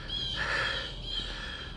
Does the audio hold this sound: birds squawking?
yes